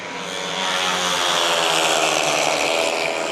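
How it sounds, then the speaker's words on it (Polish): Speedway motorcycles racing during a 2010 Grand Prix Challenge meeting in Ostrów Wielkopolski, their engines screaming in a loud, sustained high-pitched whine that swells over the first half second and holds steady. "w kapitalnym stylu prowadzi swój motocykl Lindbeck"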